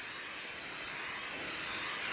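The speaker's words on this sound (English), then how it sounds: "Take some brake parts cleaner." Brake parts cleaner sprayed onto the back of a brake rotor for a 2002-2005 Chevrolet Trailblazer front brake job, one continuous close, loud aerosol hiss that stops abruptly.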